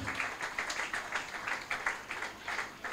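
A church congregation at a dedication service and anniversary claps together in steady, rapid applause, moderately distant and sustained throughout.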